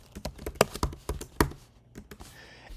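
Someone types on a computer keyboard, a close run of distinct, irregular keystrokes that tapers off toward the end.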